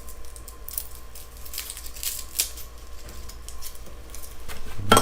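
Fresh garlic cloves are peeled and cut up in a kitchen, with soft papery crackles, light snips and small taps close up at moderate level and no talking.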